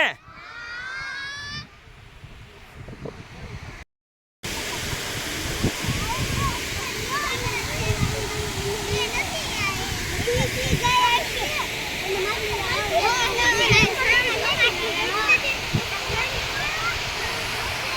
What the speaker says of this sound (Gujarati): છલકાઈ ગયું છે એટલે આને છલકાવું પણ કહેવામાં આવે છલકાય છે